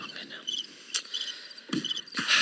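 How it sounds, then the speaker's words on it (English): Crickets chirp steadily in high-pitched trills, with a few soft thumps close by. "the stupid crickets"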